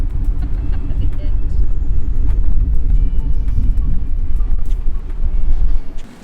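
A car imported from Japan driving along, a continuous close low engine and road rumble that holds steady and then drops away at the end.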